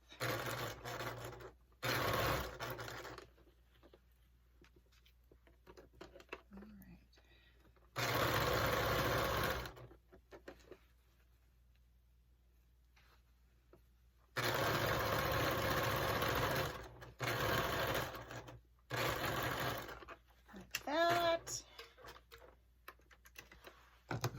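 A sewing machine set to needle down and 2.5 stitch length runs a narrow seam on a pair of pants in several separate bursts of fast whirring stitching, with quiet handling between runs and no voices.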